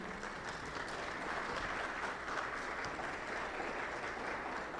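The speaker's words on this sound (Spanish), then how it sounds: "Vamos a dar un aplauso acá a Nazaret," Steady applause from an audience at an industrial-themed stand-up comedy show, a dense, even wash of clapping heard from some distance at low volume.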